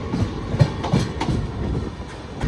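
Mangala Lakshadweep Express special train running on rails in India, heard from on board as a moderate rolling rumble with regular clickety-clack beats from wheels crossing rail joints.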